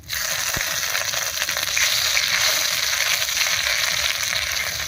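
Whole cumin seeds, dried red chillies, bay leaves and crushed ginger dropped into hot oil: a loud, steady sizzle starts abruptly and continues evenly for several seconds, close up, with faint crackles.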